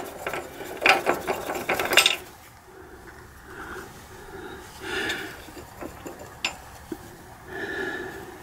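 A ratchet with a 14 mm socket turns a small nut on a 1961 Zundapp Combinette 428 moped, a quick run of close clicking followed by quieter scattered rattles and a few sharp clicks.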